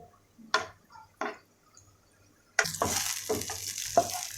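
Onions are stirred in a pan for salted mutton. A few separate scrapes come first, then a louder frying sizzle starts with more scrapes and clinks over it.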